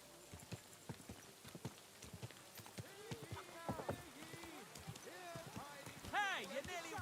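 Horse hooves clop over ground in the video game Kingdom Come: Deliverance 2, a quick rhythmic gallop that stays fairly faint under game characters talking and ambient noise.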